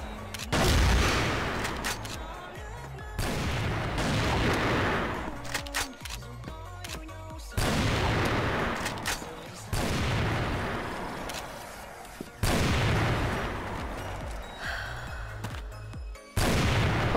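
Gunfire in the online shooter CrossFire, with loud sustained bursts of automatic fire broken by brief pauses, repeating across the whole stretch.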